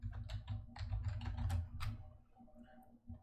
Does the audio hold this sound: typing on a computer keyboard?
yes